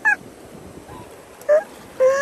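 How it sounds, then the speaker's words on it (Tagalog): A goose gives three short, nasal honks spaced over a couple of seconds, fairly close and clear against quiet outdoor background. "Bird. Where's the bird?"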